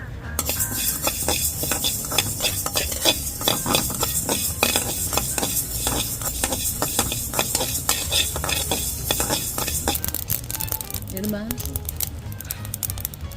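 Mustard seeds and fenugreek roasting in a hot pan for a pirandai pickle, a dense crackle of popping seeds with constant metallic stirring and scraping, a voice talking over it.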